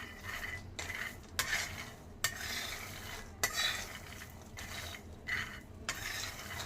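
Peanuts dry-roast in a pan for homemade jaggery chikki while a utensil scrapes and stirs them in a rhythmic series of close, rattling strokes with short pauses between.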